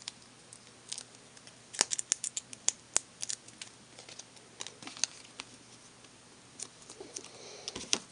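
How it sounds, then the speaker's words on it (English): Several sharp, brief snips of scissors cutting paper, scattered irregularly, close by, with quiet pauses between them and no talking. "just take some scissors and just snip a couple of these in half"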